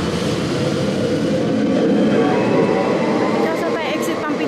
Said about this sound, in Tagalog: Train na sinakyan namin.